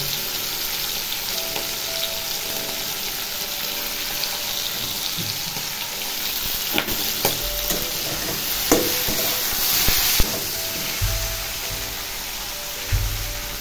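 Fish head frying in a pan after salt, turmeric and cumin are added, a steady loud sizzle running throughout, with scattered clicks and scrapes of a utensil and a few louder knocks toward the end.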